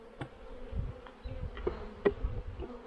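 Honey bees buzz around a hive, a faint steady hum with a few individual insects droning closer past the microphone.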